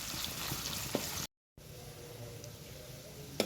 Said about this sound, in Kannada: ಇದನ್ನು ಚೆನ್ನಾಗಿ ಫ್ರೈ ಮಾಡಬೇಕು